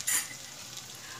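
Roasted ground peanut powder stirred into tomato masala in a pan, a short scrape at the start followed by a soft continuous sizzle, close and quiet, no talk.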